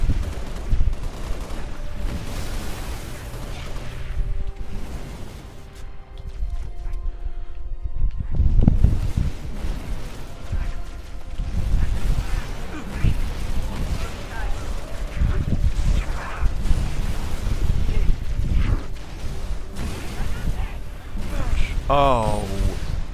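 Heavy weapon blasts and gunfire from Halo Reach, played alongside a grenade launcher and an AA gun, come in dense, repeated bursts at close range across the whole stretch, with a voice talking over them.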